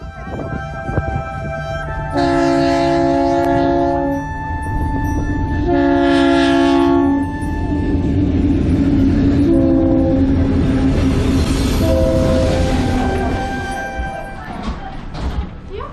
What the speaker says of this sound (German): Wir fahren jetzt mit dem längsten Zug der Welt.